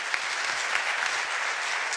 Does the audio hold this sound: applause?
yes